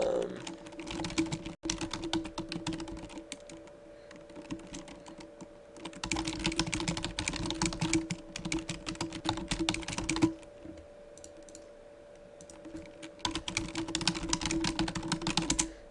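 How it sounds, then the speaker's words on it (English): Rapid clicking keystrokes on a computer keyboard while chatting during an online poker session, bursts of close, steady typing broken by brief pauses, with no voices. "I'm just typing stuff in chat"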